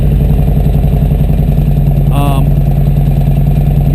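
A motorcycle engine idles close by before a ride, a loud steady rhythmic chug throughout, with a brief tonal rise in the middle.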